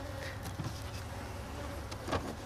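A new swarm of honey bees humming inside a fresh hive, a faint continuous buzzing drone with occasional louder passes as single bees fly close.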